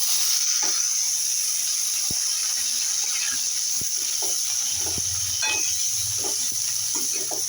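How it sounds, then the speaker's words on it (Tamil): Chopped tomatoes hit hot oil for a roadside-style kurma, producing a steady, bright hiss of sizzling throughout with a few soft clinks and stirring knocks beneath it. "இப்போ நம்ம அரிஞ்சு வச்ச தக்காளி இதில் சேர்த்துக்கலாம்."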